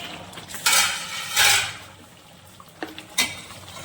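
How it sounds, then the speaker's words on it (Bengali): A metal lid scrapes and clanks off a cooking pot of simmering mutton kosha, two loud metallic rasps followed by a couple of light clinks, close and with no talk. "আমি আবারও 10 মিনিট পরে ঢাকনাটাকে খুলে নিচ্ছি।"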